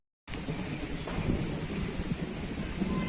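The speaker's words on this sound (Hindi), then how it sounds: "गरज रहे हैं बादल" Thunder rumbles low and long through steady, heavy rain falling on surfaces outdoors, a continuous wash of sound that begins abruptly, with no voices.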